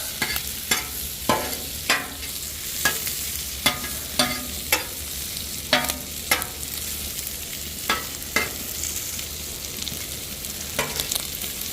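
Meat frying on a Blackstone griddle alongside hash browns, a constant close sizzle punctuated by a regular series of sharp metal spatula scrapes and taps across the flat top.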